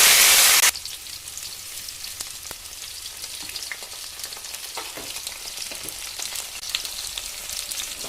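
Shallots fry in oil with fennel, fenugreek and mustard seeds: steady, close sizzle with a fine crackle of hot oil, continuous throughout after a brief louder burst at the start.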